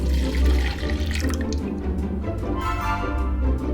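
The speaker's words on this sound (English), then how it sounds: "Pour into a bowl." Warm soya milk pours from a pan into a bowl in a home kitchen, a steady close liquid splash and trickle running continuously without any talk.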